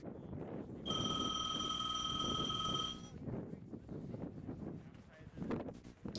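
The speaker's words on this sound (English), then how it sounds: "the phone just keeps ringing" A telephone rings with a bright electronic trill for about two seconds, over wind-buffeted background noise and faint voices.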